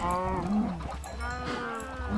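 Cows in the Minecraft video game moo in several drawn-out, overlapping lowing calls, loud and continuous with no talk.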